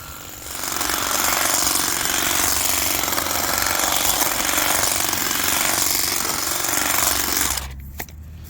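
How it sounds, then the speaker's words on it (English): Small powered grass clippers cut back daylilies with a loud, continuous rattling buzz that lasts about seven seconds before stopping abruptly, followed by a faint click. "So I thought I'd try these little grass clippers and see how they do on these daylilies."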